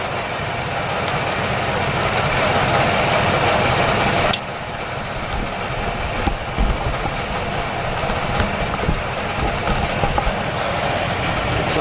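A 1962 Chevy engine idling steadily after decades parked, a continuous close rumble with a light rattle from the fan shroud, plus a sudden drop in level partway through and a few small knocks.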